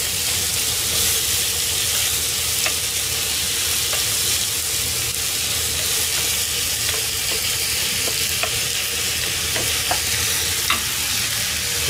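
Steady, dense sizzling of soffritto frying in a pan, a continuous broad hiss with small pops and crackles scattered throughout, close and fairly loud.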